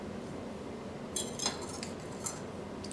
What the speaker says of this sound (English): place a clove under the flat side of a knife blade and press down with the palm of your hand until you hear a crack